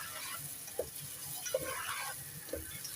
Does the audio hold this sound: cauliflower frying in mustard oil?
yes